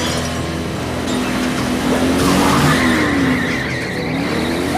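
Tires squeal and skid loudly from the killer car in the horror film Christine, with a wavering screech rising and falling over an engine rumble, close and prominent throughout.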